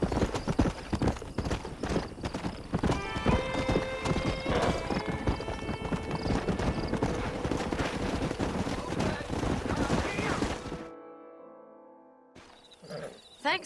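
Horse hooves clatter in a fast, dense gallop in the Western video game Red Dead Redemption, loud and close, with a neigh rising over the hoofbeats midway before the sound cuts off abruptly and a brief burst returns at the end.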